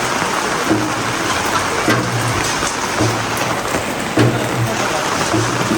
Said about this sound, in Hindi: बहुत तेज़ बारिश हो रही है भाई,